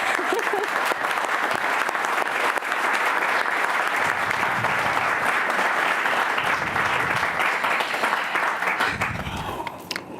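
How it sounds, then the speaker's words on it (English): Sustained applause from a county council meeting audience honoring a departing colleague, a steady dense wash of clapping throughout, with brief voices audible near the end. "So can we just give him a round of applause?"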